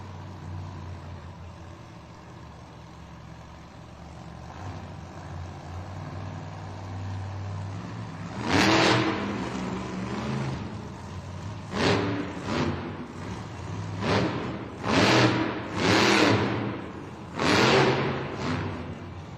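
The Gravedigger monster truck, driven by Matt Cody at an indoor Monster Jam arena event in Green Bay, Wisconsin, idles low and then snarls through a series of loud, heavy engine revs that rise and fall in repeated bursts over arena ambience.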